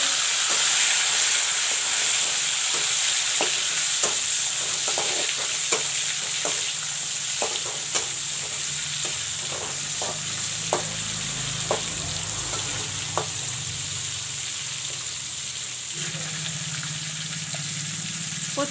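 Chopped tomatoes sizzle and fry steadily in a pan for a pumpkin and potato curry, with repeated light clicks of stirring over the continuous hiss, close and alone without talk.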